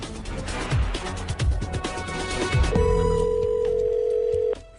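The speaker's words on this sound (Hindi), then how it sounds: "फोन बज रहा है मैन।" A telephone rings with a steady electronic tone over background chatter and clatter, the ring holding for a couple of seconds before cutting off.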